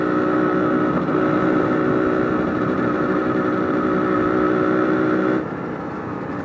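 Yamaha DT125 two-stroke enduro motorcycle ridden on a dirt trail, its engine droning steadily and fairly loud throughout, easing slightly near the end.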